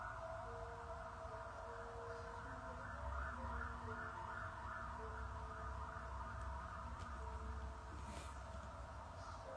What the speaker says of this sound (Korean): 밖에 사이렌 소리가 나네요.